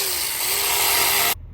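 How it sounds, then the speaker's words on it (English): A small handheld mini chainsaw runs loud and steady with a high motor whine as it is tried on a block of ice, then cuts off abruptly near the end. "I wonder if the mini chainsaw will cut ice"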